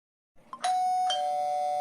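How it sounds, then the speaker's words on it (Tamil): A house doorbell rings alone with a clear two-tone ding-dong chime that rings on and sustains, loud and close in a quiet room. "calling bell sound"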